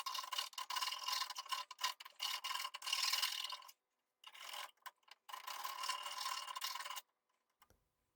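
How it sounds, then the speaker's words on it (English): A hand file rasps at the rough edge of a hole drilled for a switch on a snowblower chute control, close steady scraping strokes in bursts separated by short pauses, then silence. "I'm gonna take a file and clean up the hole a little bit."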